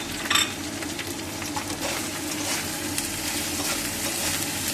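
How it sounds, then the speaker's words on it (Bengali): Chilli, turmeric and cumin powders stir-fried in a pan, a moderate steady sizzle with scraping stirs and a brief clink at the start. "দিয়ে ভালো করে কষে নেবেন আপনারা।"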